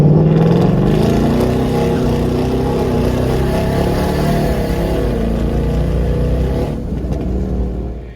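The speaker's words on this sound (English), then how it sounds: "when it downshifts, even just like in sport mode, like I have it now, man, it downshifts really aggressively and makes just this insane sound" A Hellion twin turbo Mustang with over 1000 hp roars loud and steady in sport mode, its deep engine note holding under load and shifting pitch as it downshifts aggressively, easing off slightly at the end.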